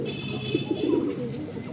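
Adult pigeons at a sale, with soft, low cooing close by over a steady background hum for a couple of seconds, and no talking.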